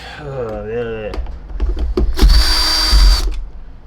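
A power drill backs out screws from a Riccar Radiance RAD.4 R40 vacuum cleaner during repair, giving several short bursts and then a longer loud whir at close range, with a voice talking at the start.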